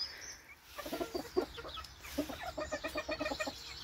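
A Noire de Janzé hen gives a run of soft, rapid clucks in uneven bursts, fairly quiet and close by, with no talking.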